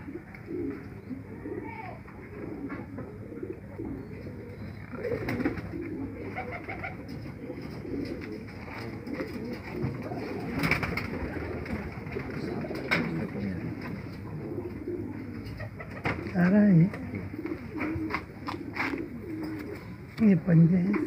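Pigeons coo in soft, low, rolling calls near a loft of golden pigeons, while someone talks in Hindi over them throughout and the cooing grows louder near the end.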